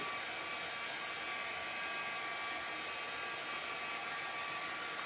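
A hair dryer runs steadily on painted newspaper pins, giving a constant close whooshing hiss with a faint high whine and no pauses or talk.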